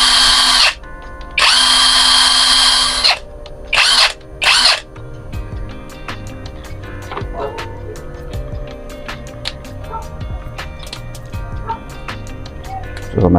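A Keelat impact wrench, just unboxed, whines loudly in two long high-power bursts and a few short ones, then quieter mechanical clicks and ticks follow.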